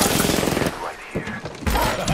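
Rapid automatic gunfire in the shooter game Apex Legends, loud and close: dense bursts crackle at the start, then a brief lull with scattered shots before another heavy burst closes it.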